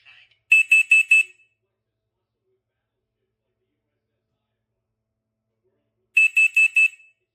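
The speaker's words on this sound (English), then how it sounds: "Testing smoke. Testing carbon monoxide." A First Alert SC5 smoke and carbon monoxide alarm runs its test, giving two bursts of four shrill, rapid beeps separated by several seconds of silence.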